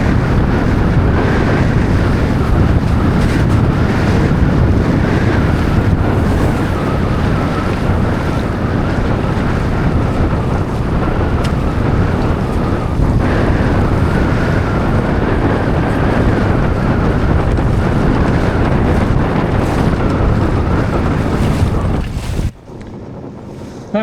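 Strong wind roars over the microphone with rushing water and hull noise as a Freedom 21 sailboat on Derwentwater hits a gust, building steadily and cutting off abruptly near the end.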